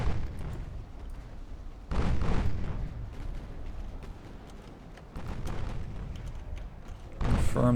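Torpedoes launching from the warship Gneisenau in Ultimate Admiral: Dreadnoughts, heard as three heavy booming launch bursts spaced a few seconds apart with a low rumble between them.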